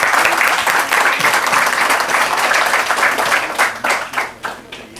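Audience applause welcomes a president at a Spanish-language book presentation, a dense, loud wash of many clapping hands that holds steady and then thins out and fades toward the end.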